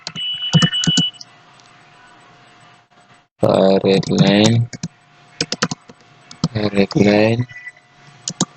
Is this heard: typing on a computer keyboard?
yes